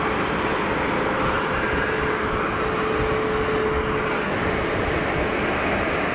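An orange and white EasyJet airliner arrives at Geneva Airport after a flight in from Porto, a steady broadband jet roar holding loud and even throughout, with a faint thin tone running through the middle.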